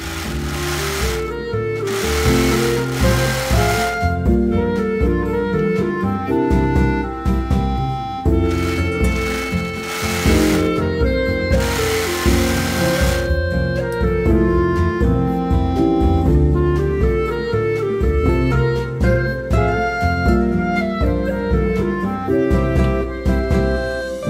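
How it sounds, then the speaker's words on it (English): A serger overlocks the edges of fabric for a baby girl's bloomer, running in a steady mechanical whir with a few louder bursts as it speeds up, close by and alone. "Just serge them"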